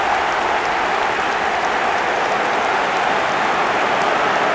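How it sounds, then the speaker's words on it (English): Stadium crowd in the eFootball video game applauding a goal for Messi's side, a steady, loud wash of clapping that fills the whole stretch without pause. "Even some of the opposing fans are clapping that."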